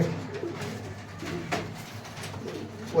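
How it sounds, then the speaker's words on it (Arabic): Domestic pigeons kept for breeding coo softly in a loft, low repeated throaty calls rising and falling over a few seconds with faint rustling around them, no voices. "حمام كويس جدا، تقليب كويس جدا."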